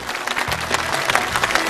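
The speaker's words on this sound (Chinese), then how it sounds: "这不算啥，掌声热烈" A television studio audience claps briskly after a magic trick at a father's birthday variety show, with a low musical tone sounding beneath the applause.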